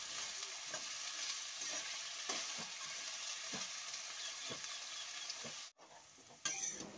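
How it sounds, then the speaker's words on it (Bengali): Potatoes fry on low heat with no water while a spatula stirs them; a quiet, steady sizzle runs under a regular series of soft scraping strokes, broken by a brief pause near the end. "এইভাবে কিন্তু খুন্তিটা দিয়ে নাড়াচাড়া করে ভাজা করে নিতে হবে আলুটাকে"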